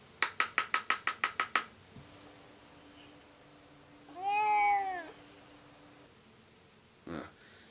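A cat in a 1964 Christmas film meows once in a drawn-out, wavering cry, preceded by a fast series of bright metallic clinks and followed by a short soft thump.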